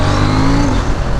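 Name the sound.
KTM Duke 790 motorcycle engine braking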